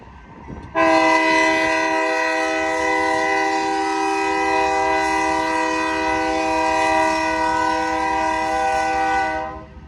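An autorack freight train's horn blares loud and sustained for several seconds, sounding close, with the low rumble of rolling rail cars underneath.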